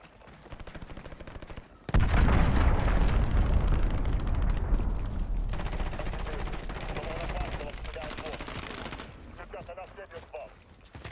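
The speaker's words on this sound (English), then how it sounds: "Enemy cruise missile. Take cover." A cruise missile strike in Call of Duty: Modern Warfare erupts as a sudden loud, deep blast that rolls into a long rumbling roar mixed with gunfire, with voices talking over the din.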